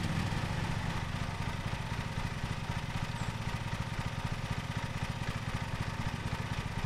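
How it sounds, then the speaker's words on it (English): A lawn mower engine in Lawn Mowing Simulator runs steadily with a low, even drone and a fine rapid pulse. It stays fairly quiet and constant throughout, with no voices over it. "Okay, we're gonna start the engine."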